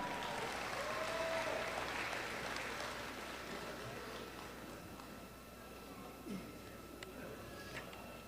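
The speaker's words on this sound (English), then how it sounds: "So let's give them another round of applause." Graduation audience at Sinte Gleska University in 2024 claps for associate degree recipients, a moderate round of applause that is fuller at first, then thins to scattered claps with a faint steady hum beneath.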